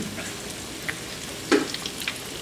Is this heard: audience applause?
no